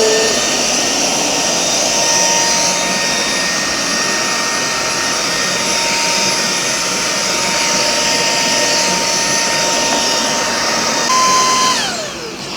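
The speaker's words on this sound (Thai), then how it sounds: "มินก็ลองใช้โหมดเทอร์โบนะคะ ก็คือดูดฝุ่นไปด้วยแล้วก็ถูทำความสะอาดไปด้วยนะคะ" An automatic floor scrubbing vacuum cleaner that sweeps, vacuums and mops, running in turbo mode, gives a loud steady whirring motor roar with a high whine throughout, dropping slightly in pitch right at the end.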